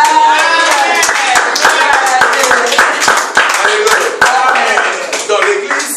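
Church congregation applauding together at a Pentecostal service in Aalst, Belgium, a dense, steady burst of many hands clapping, loud and close, with voices mixed in throughout.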